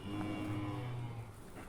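A brown calf sired by a Simmental bull, with a mother crossed with Angus, gives a single close, drawn-out low moo that fades toward the end.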